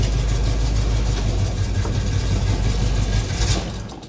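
A 1977 Chevy Monte Carlo V8 running after years of sitting, with a loud, close, steady low rumble that eases off at the end.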